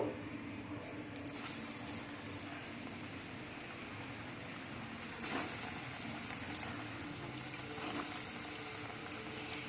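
Snacks fry in hot mustard oil in a wok with a steady, continuous sizzle and bubbling, close and moderately loud throughout, with a few brief crackles.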